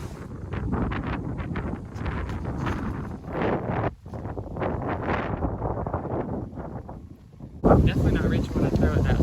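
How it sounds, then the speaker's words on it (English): Strong wind gusts buffet the microphone outdoors on a disc golf course at Hiller Park, a steady loud roar with a few brief lulls, while someone talks over it for most of the stretch. "as I can hear, a lot of wind"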